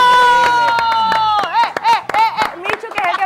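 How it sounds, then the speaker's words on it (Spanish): A studio audience claps on a television show, a burst of scattered hand claps under a sustained voice holding a note, followed by loud talk over further clapping. "quiero que les brindemos un fuerte aplauso"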